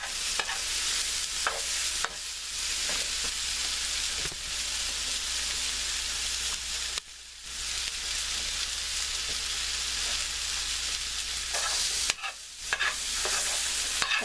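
Vegetables fry steadily in a pan for a vegan black bean tapenade, a continuous loud sizzle with stirring scrapes throughout and a couple of brief dips, no voices.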